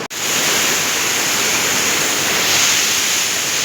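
Waterfall pouring at a dam in Konkan, a steady loud roar of falling water heard close and alone, unbroken throughout.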